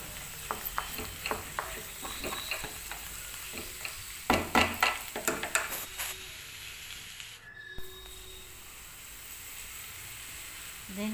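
Sliced bitter gourd (kakarakaya) crackles as it stir-fries in a pan, with rapid clicking spatula strokes and a burst of loud scraping in the middle before the sound thins to a faint hiss.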